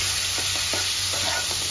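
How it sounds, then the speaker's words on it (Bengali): Prawns coated in salt and turmeric fry in hot oil with a loud, continuous sizzle, punctuated by a few soft stirring scrapes. "চিংড়ি মাছটা একটু হালকা করে ভেজে নেব।"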